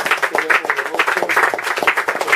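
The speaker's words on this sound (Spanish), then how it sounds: "Le puede dar una ofrenda de palmas al Señor" A church cell-group congregation claps steadily in praise, with dense, rhythmic applause close by and loud throughout the short stretch.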